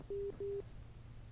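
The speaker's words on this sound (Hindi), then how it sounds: "फ़ोन आ रहा है एक हमारे पास" An incoming telephone call tone sounds twice, two short, even electronic beeps with a brief gap between them, faint against a quiet background hum.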